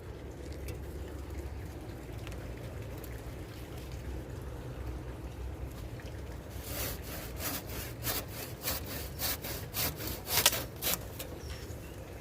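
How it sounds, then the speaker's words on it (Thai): A hand saw cuts through branches of a wind-felled tree outdoors, starting faint and then becoming a run of quick, rhythmic rasping strokes over steady background noise. "แล้วก็จะมาตัดกิ่งออกนะคะ ใช้เลื่อยค่ะ"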